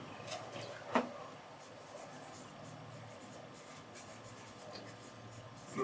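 Someone writes on a board during a chemistry class, making a faint continuous scratching with a single sharper tap near the start, over quiet room tone.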